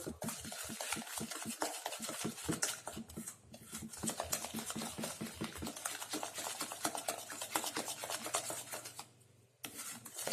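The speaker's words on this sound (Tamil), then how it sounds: "ஒரு முட்டை சேர்த்து நல்லா கலக்கிக்கோங்க." Cake batter for a pressure-cooker cake being mixed with an egg, a steady run of quick scraping strokes against the bowl, close and continuous, with a brief pause near the end.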